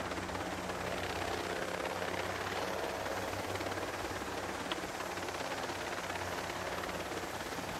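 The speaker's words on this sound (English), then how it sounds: "Not the fact that I'm a big-ass helicopter." Military helicopter in the video game Ghost Recon Breakpoint: a continuous, steady rotor and turbine roar fills the whole stretch at an even level, with no talking over it.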